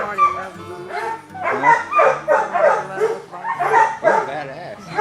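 Several dogs in a pen bark, yip and whine almost continuously at close range, a busy overlapping chorus with people talking nearby.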